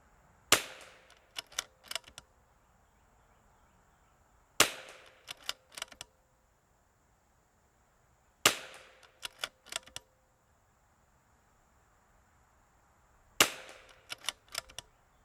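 Rifle shots with Lapua ammunition at a rifle match, fired in four evenly spaced groups, each a sharp loud crack followed by a few quieter clicks and echoes, with near silence between.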